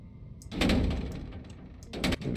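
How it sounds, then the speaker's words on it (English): A broken door in the video game Adam Lost Memories gives a heavy thunk followed by a dull knocking rattle, then a second softer bump, close and fairly quiet. "Broken door."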